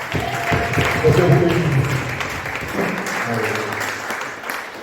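A church congregation claps in praise of the Lord, a dense, sustained round of applause mixed with voices and a preacher speaking over it.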